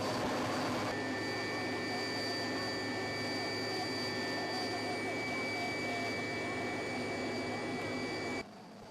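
Military helicopter hovering during a diver recovery exercise: a steady, loud turbine whine and rotor roar that holds without a break, with a high tonal whistle layered over broadband noise, cutting off near the end.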